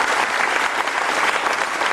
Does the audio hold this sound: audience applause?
yes